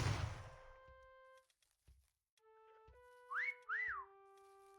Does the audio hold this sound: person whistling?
yes